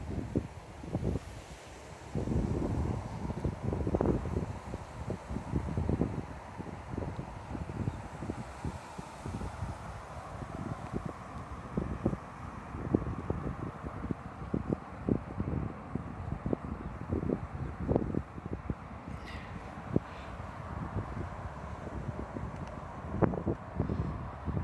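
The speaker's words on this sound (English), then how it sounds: "the wind's blowing inwards towards us" Wind gusting across a lake, buffeting the microphone in uneven rough bursts over a low steady roar for the whole stretch, close and fairly loud.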